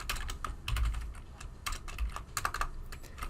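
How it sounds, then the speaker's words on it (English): A spreadsheet formula being typed on a computer keyboard: a quick, uneven run of close key clicks with short pauses between bursts, no voices. "the sample mean, I type in equals average of column C"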